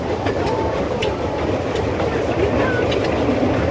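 A narrow gauge railway train at Tinkers Park, Sussex rumbles steadily with rhythmic clickety-clack from the passenger car, loud and close, while voices murmur faintly over the running noise.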